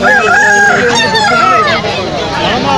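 Loud, close crowing from a rooster at a chicken market in Melapalayam, Tirunelveli, with overlapping calls from other birds and chickens filling the whole stretch.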